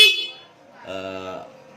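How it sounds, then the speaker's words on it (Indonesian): A Honda Vario scooter's electric horn gives a short, buzzy honk at close range, heard alone with only brief room noise around it. "bahkan klakson juga hidup"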